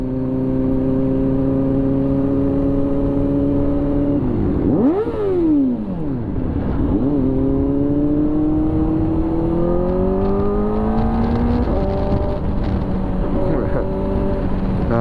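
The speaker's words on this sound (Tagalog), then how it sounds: "ang lakas ng motor" A Kawasaki ZX-4RR sport motorcycle engine revs loud and steady, rising and falling through repeated throttle blips over a continuous high-pitched whine, with voices mixed in underneath.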